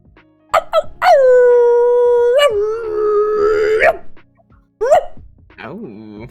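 A person imitates a dog barking and a werewolf howl with a few short yelps, a long rising and falling howl, and then more barks, all close and loud.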